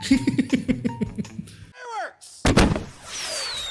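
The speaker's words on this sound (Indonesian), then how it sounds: "ditutup dengan kembang api yang meriah dan sedikit melenceng arahnya" Fireworks burst in a loud volley of booms and crackles, followed by a whistling rocket climbing, then another sharp blast and fizzing sparkle.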